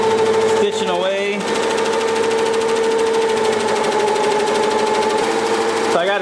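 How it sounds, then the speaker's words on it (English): An embroidery machine stitching a beanie order runs at 850 stitches per minute with a fast, steady mechanical whir and rapid needle clatter, loud and close, with a voice briefly heard talking over it. "We're over here stitching away."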